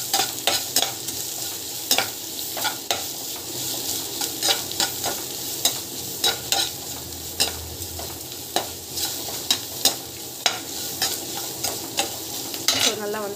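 Upma ingredients sautéed with salt in a pan, steady sizzling and frying with repeated scraping and stirring strokes of a spoon against the pan, close and fairly loud throughout, with no talking.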